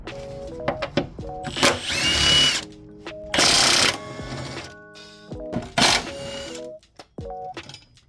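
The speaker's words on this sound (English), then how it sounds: "you just remove it by taking off 1, 2, 3, and 4 17mm bolts" A power tool, likely an impact wrench, removes 17mm bolts from an XA tension rod bracket on an S13. It sounds in several loud bursts of whirring and rattling between quieter clicks and clanks of handling.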